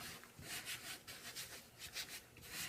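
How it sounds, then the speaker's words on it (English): A cloth rubs stain into a faux leather sheet in soft, close, rhythmic strokes, each a brief scuffing swish, repeated steadily and faintly. "So I'm going to continue rubbing."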